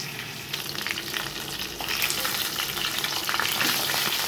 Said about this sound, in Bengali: এখানে অলরেডি ভাজতে দিয়েছি নুন হলুদ মেখে